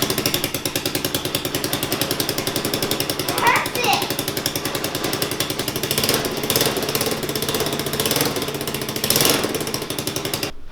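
A 110cc ATV four-wheeler engine on choke chugs with a fast, steady rapid-fire putter, loud and close, while someone talks over it.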